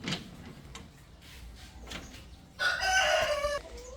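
Hens in a coop cluck and squawk in short bursts near the microphone, with one louder, drawn-out call standing out for about a second amid quieter scratching sounds.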